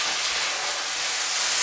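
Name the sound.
vermouth sizzling as the alcohol burns off in a risotto pan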